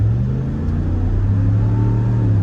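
Deep, steady engine rumble of a Ram 1500 Limited pickup with a 5.7 liter Hemi V8 accelerating at half throttle on a two-lane road, a low throaty drone that builds slightly, heard from inside the cab.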